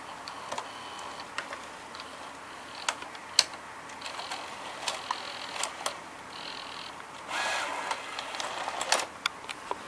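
Gear-driven tape mechanism of a Sony EV-C200 Hi8 VCR running, a quiet whir with irregular close mechanical ticks, clicks and ratcheting gear noises, heard alone.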